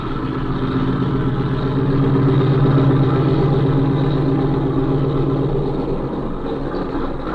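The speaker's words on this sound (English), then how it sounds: "I suppose we might as well taxi right over to that shed." A steady, droning engine hum from a small 1930s airplane taxiing across water toward a shed in a radio drama, a constant low rumble with no talking.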